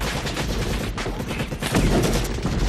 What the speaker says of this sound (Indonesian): insiden itu membuat aksi baku tembak auto terjadi